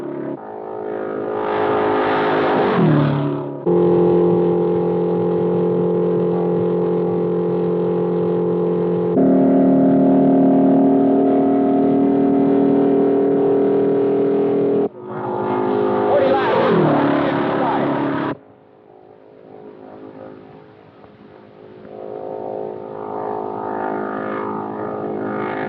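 An all-new American Motors car pushed through a brutal endurance road test, engine droning at sustained speed in long steady stretches, with louder roaring passes and a quieter tail near the end.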